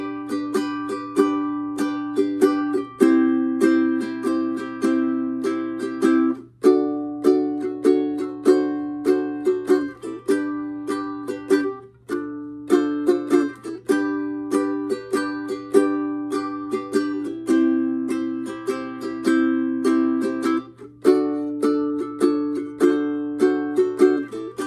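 Ukulele chords played in a shuffle rhythm, steady down strums repeating in even bars with clear ringing chords, close and alone without talk.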